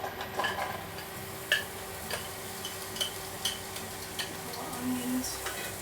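Mushrooms cooking in a pan for a mushroom stroganoff, a soft continuous sizzle with scattered clicks and taps of a utensil stirring against the pan, fairly quiet and close.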